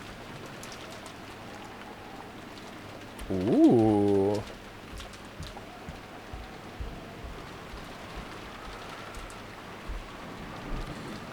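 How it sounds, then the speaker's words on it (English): Steady rain sound effect from the Umineko visual novel falls as a continuous soft patter throughout, with a brief spoken exclamation partway through. "disappeared beneath the sound of the rain"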